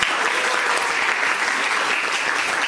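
Students and their teacher in a classroom clap together in a dense, continuous burst of applause, close and lively, with no talk over it.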